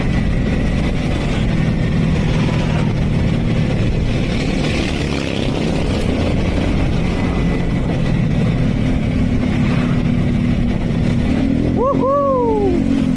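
A Honda Winner X 150cc motorcycle accelerates on a test ride, its engine drone running loud and continuous under heavy rushing wind, with a brief rising whine near the end.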